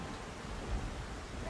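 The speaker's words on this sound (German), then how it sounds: "Oh, es regnet." Rain and a thunderstorm in the video game Dave the Diver make a steady, dense hiss with a soft low rumble, heard briefly and evenly throughout.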